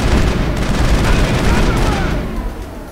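Dense, continuous shooting in the video game Mass Effect, loud at first and easing slightly toward the end, with no speech over the rattle of fire.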